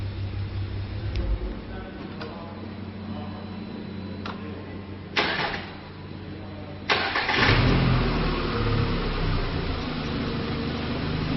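A car engine is cranked and started during a 12V battery tester starting-system check, with a car that has a charging problem: a brief crank, a second longer crank that catches, then a steady close idle with a slight rev.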